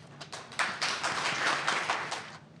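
A conference audience at a forum on global disasters gives a round of applause as session moderators come to the podium, a dense wash of many hands clapping, steady and moderately close, then tapering off.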